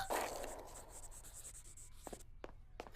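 A pen scratches across a birthday card for a school director, starting with a brief firm stroke and followed by lighter scribbles and a few faint ticks, close and quiet, with no talking.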